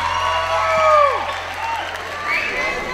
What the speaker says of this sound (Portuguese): Vamos receber com palmas Débora Valente.